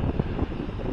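Light wind blowing outdoors in Maspalomas, Gran Canaria, a steady low rumble buffeting the microphone for about a second, with no voices.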